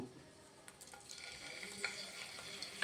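Cumin seeds and curry leaves frying in oil for fried rice, a faint, quiet sizzle with light crackles and occasional small stirring clicks.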